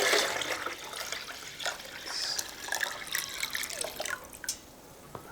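Unchlorinated water splashes and trickles into a container for a few seconds while brewing turmeric beer, with gurgling and dripping and no voices.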